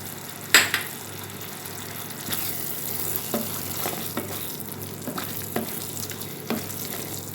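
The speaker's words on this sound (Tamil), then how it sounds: "நெய் ஊற்றி நல்லா கிண்டிக்கலாம்" Ghee being stirred into carrot halwa in a pan: a soft steady sizzle with repeated sharp scrapes and knocks of the spoon against the pan, close and clear with no voices.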